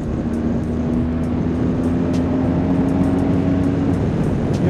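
A BMW R1200 GS Adventure motorcycle rides at steady speed, its engine drone loud and continuous with a sustained tone over wind and road noise, with no clear gear-change break.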